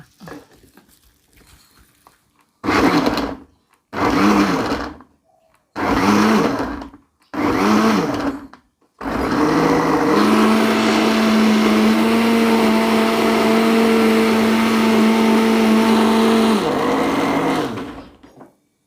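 A kitchen blender grinds shallots, garlic, chili and shrimp paste for green curry paste, starting with four short pulses, then running in one long steady whir with a rising motor whine.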